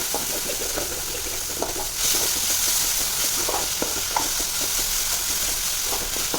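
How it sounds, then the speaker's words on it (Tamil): Marinated chicken masala being sautéed in a hot pan for a semi gravy, a constant close sizzle with frequent scraping stirs and light clatter, no voices. "வெந்து கொஞ்சம் நல்லா பச்சை போகிற வரைக்கும் நல்லா வதக்கிக்கலாம்."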